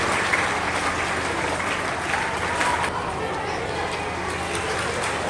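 Sustained applause from an audience at a school annual function prize distribution, a dense, steady wash of clapping throughout with a faint murmur of the crowd underneath.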